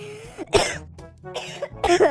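A man who is ill coughs several times up close, in short harsh bursts separated by brief pauses.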